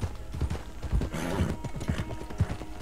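Horse hooves clip-clop in Red Dead Online in a quick, close, steady rhythm, with a brief whinny mixed in.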